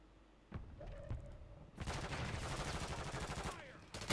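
Gunfire in Call of Duty Warzone, a loud dense burst of rapid shots that sets in after a few scattered reports and rattles on close by to the end.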